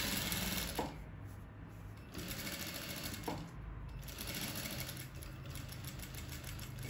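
Straight-stitch sewing machine running steadily while sewing a shirred dress with elastic thread, a continuous close mechanical whirr with rapid stitching rhythm and brief pauses, no talking.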